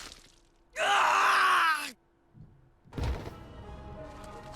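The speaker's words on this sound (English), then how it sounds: "And then a blood-curdling shriek." A loud, piercing shriek in the video game Hakuoki rises and falls for about a second, followed by a dull thump and a rumbling crash.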